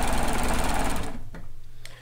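Serger overlock sewing machine stitching and knife-trimming fabric for a kimono, a rapid loud whirring hum that runs for about a second, then slows and fades with light clicks.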